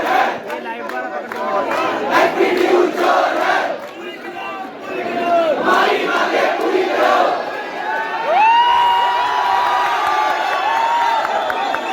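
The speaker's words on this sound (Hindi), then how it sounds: "तो लगभग काफ़ी यहाँ पे भीड़ हो चुकी है" A large crowd of protesting students gathered outdoors, loud continuous shouting, chanting and cheering with overlapping voices close by.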